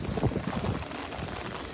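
Strong summer wind outdoors beside Osaka Castle buffets the microphone in a close, loud rumble that gusts at first and then settles into a steadier rush.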